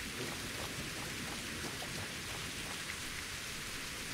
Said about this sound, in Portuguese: isto está a começar a chover de uma maneira que me está a assustar um bocadinho